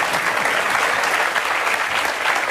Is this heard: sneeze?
no